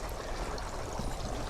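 Dead Rabbit Irish whiskey being poured into a glass, a soft, steady trickling stream heard close up and quietly, with no talking.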